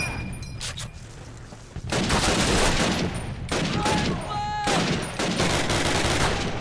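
Gunfire in the Call of Duty 2 PC game on Veteran difficulty, loud bursts of rifle and machine-gun fire crackling almost continuously, with a sharp burst near the start and dense volleys following, no talking.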